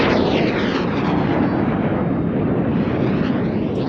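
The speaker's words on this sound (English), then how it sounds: "The aircraft crossing feet away from each other, the chip over it left and right, Red 6 and 7 about to barrel." Red Arrows display jets roar past at an air show, producing a loud, continuous rushing jet-engine blast that fills the whole stretch with no voices heard.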